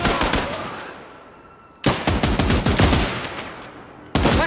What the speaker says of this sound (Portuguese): Metralhadora.